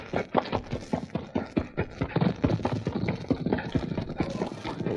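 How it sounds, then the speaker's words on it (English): Hoofbeats pound along a trail in an old-time Western radio drama, a steady galloping clip-clop with dense rapid strikes, fairly close and continuous throughout, with faint voices underneath. "heard pounding hoofbeats approaching from the direction of Benton on the trail above them"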